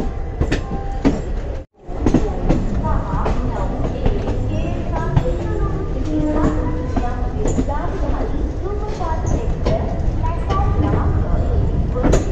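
A train rolls into Nagpur Junction station, a steady loud rumble with rhythmic clickety-clack of wheels over rail joints and a brief dropout near the start, with voices in the background.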